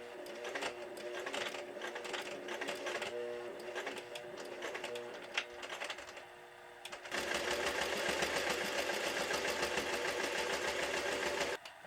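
Sewing machine stitching a straight seam with backstitches through quilted fabric for a scrappy clothespin bag, a rapid mechanical chatter close by that pauses briefly, then resumes faster and louder in a steady run.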